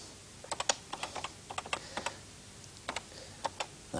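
Fast, irregular clicks of typing on a microcomputer keyboard, close and clear, with no talking over the keystrokes.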